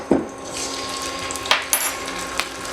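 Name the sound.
pan placed on stove, oil and ginger garlic paste added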